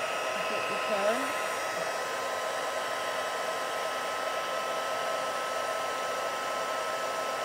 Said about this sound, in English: So I'm going to get my heat embossing.